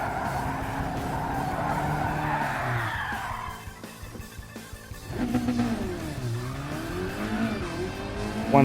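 Car spinning out in Gran Turismo 7, tires skidding and squealing over a steady engine drone, with a drop midway before a second sliding squeal swells loud near the end.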